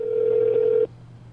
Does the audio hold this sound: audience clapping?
no